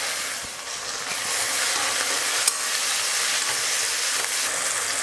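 Chopped tomato sizzles and crackles in a hot pan with a steady hiss while making kothu parotta, as a utensil scrapes and stirs now and then; no talking.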